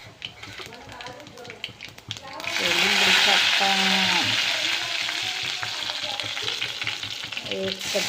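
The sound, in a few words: tempering spices sizzling in hot oil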